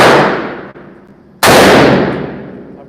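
Glock G44 .22 pistol firing at a range: two sharp, loud shots about 0.7 seconds apart, each with a long ringing decay, with no talk.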